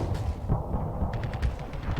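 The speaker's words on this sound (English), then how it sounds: "Plasma cannons, they hit hard." Plasma cannons fire in the space combat game Starsector (Nexerelin mod), a dense run of heavy booming shots that overlap in a steady, rumbling barrage lasting the whole stretch.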